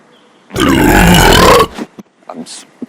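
A single loud, drawn-out burp lasting about a second, close to the mic, followed by a few brief faint mouth sounds.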